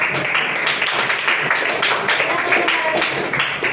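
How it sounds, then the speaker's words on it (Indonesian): Classroom applause for a teacher after a group presentation in a seventh-grade geometry lesson, a steady, fairly loud patter of many hands with faint voices mixed in. "kasih tepuk tangan untuk Pak"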